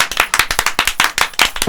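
A small group of villagers clapping together, quick crisp claps in a fast, roughly regular beat, close and loud, with no talk.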